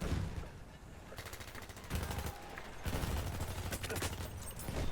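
Battlefield 1 gunfire in a dense, continuous run of shots and bursts, loud and busy throughout, with a voice briefly underneath.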